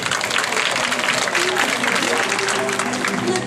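Audience applause at a school diploma ceremony for the class of 2017, steady dense clapping from a crowd that fills the whole stretch, with speech-like voices and murmurs mixed in underneath.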